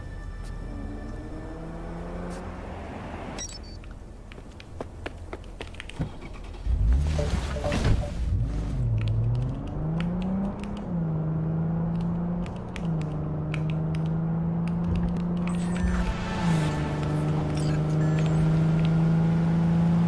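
A car in Cyberpunk 2077 pulls up, its engine droning and rising in pitch under ambient game sound, with a burst of mechanical clatter as it arrives and a steady hum afterward.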